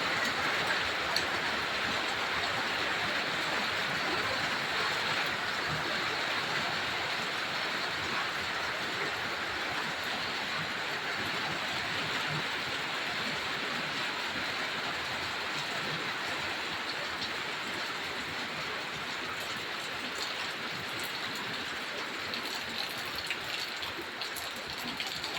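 Heavy rain pours down on a house during a November storm, a dense, steady hiss that holds at an even level for the whole stretch with no break.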